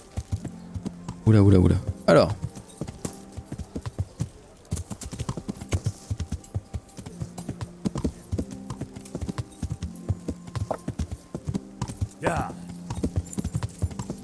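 Horse hooves clip-clop in a medieval Bohemian role-playing game as a rider sets off, a steady rhythmic trot running under frequent talk from a player, with a brief whinny near the start.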